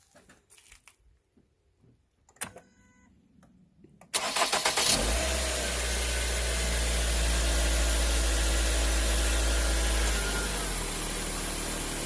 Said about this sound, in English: we're going to shift this thing from neutral to reverse to drive